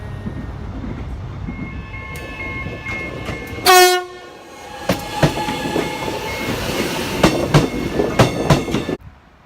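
A metro train rumbles and clatters past at an above-ground station in Australia, a short loud horn blast sounding midway, followed by rhythmic rail clicks and squeals.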